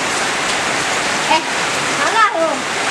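Steady rain pouring down outdoors in a village, a dense hiss throughout, with faint children's voices briefly audible under it.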